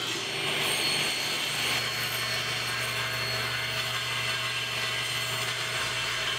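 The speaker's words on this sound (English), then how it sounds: "I'm using the same cross-cut sled to cut the notch in the beam" A table saw with a cross-cut sled cuts a notch into a reclaimed wooden beam, making a steady, loud whine and grinding rasp that holds evenly throughout, with no talking.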